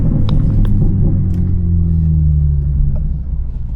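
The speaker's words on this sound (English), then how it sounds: "That startup is nasty." A BMW G80 M3 engine, running a tune, roars at startup into a loud, deep rumble that holds steady, then settles slightly lower toward the end.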